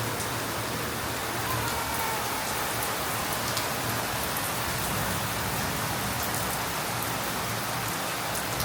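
Steady rain falls and patters on surfaces near a veranda, an even, continuous hiss of drops at moderate volume with no voices.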